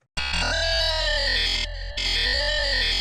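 A loud, buzzy synth bass note with a ringing, hollow comb-filtered tone sustains, cuts out briefly, then sounds again.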